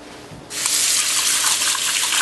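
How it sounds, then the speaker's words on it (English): A mixture of egg and milk poured from a bowl over shrimp, starting abruptly as a steady, close splashing gush that continues without pause. "We're going to take this egg and milk and pour it all over the shrimps."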